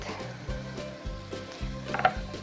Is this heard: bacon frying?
yes